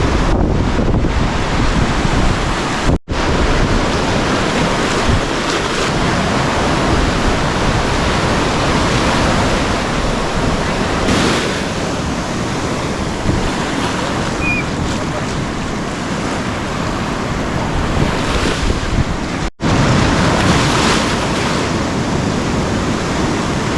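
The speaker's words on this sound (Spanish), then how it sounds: "Qué playa más salvaje." Waves wash continuously onto a wild beach at Monsul in Cabo de Gata, Almería, a loud, broad roar of surf with wind buffeting the microphone throughout.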